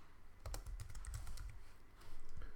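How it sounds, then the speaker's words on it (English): Fingers type on a computer keyboard in quick irregular bursts of light clicks, close and fairly quiet, with a brief pause before a final flurry of keystrokes. "I'm going to type first name"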